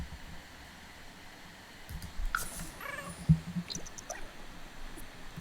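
A cat in The Sims 4 gives a couple of short meows midway through, moderately close but soft against a faint hiss of background noise.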